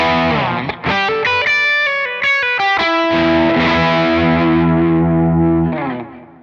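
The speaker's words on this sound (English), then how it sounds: "here's the blues breaker adding some of its lighter drive, but it's being pushed now by that sort of ODR1 boosty side" Electric guitar through a Blues Breaker overdrive pedal pushed by an ODR1 boost, a few picked notes and a loud, lightly driven chord that rings out and fades.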